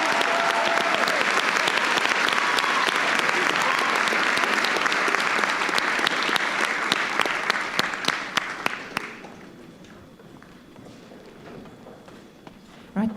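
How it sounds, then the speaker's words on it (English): A hall full of people applauding at a college valedictory ceremony, sustained loud clapping that thins into scattered claps and fades to quiet room tone near the end. "Right, a big round of applause"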